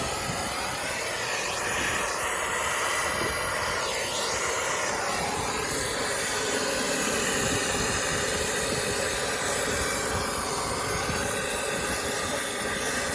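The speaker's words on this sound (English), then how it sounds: "All right, we got nitrogen running through. We're gonna braze her up." Brazing torch flame heating a copper pipe joint on a heat pump while nitrogen flows through the line, giving a steady, loud, close roaring hiss with a low rumble that runs unbroken throughout, no voices.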